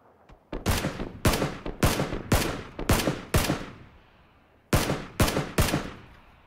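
Single heavy gunshots in PUBG crack out one after another, about nine loud close reports in an irregular rhythm with a pause before a final trio.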